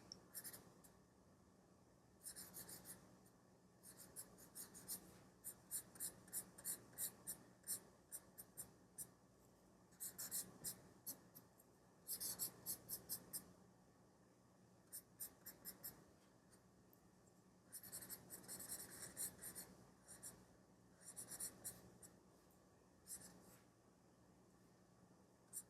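A 2B mechanical pencil shades on paper in bursts of close, scratchy, rhythmic strokes separated by short pauses, with no talking.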